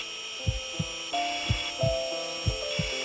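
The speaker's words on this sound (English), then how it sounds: "Start drilling in, buddy." Surgical drill in the video game Surgeon Simulator 2013 during heart surgery in space: repeated short grinding bursts in an uneven rhythm over a steady electronic hum, no voices.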